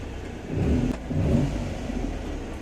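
A Suzuki K6A engine in a DA64W runs at idle and revs in two short swells, a close mid-pitched rumble that settles back to a steady hum.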